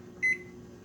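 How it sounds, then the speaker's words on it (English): A GE microwave oven gives a single short electronic beep as its countdown timer starts, alone in a quiet room. "just press start right here"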